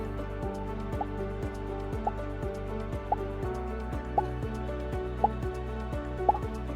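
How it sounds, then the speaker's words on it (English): Water drip sound effect played back in Scratch, repeated as a steady run of about six evenly spaced, clear plops over a low constant hum, alone with no talk. "So I hope you can hear the sound"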